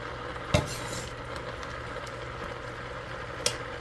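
Food is stirred in a cooking pot with a metal utensil, giving two distinct clanks against the pot about three seconds apart over a steady low sizzle and bubbling, with no talking.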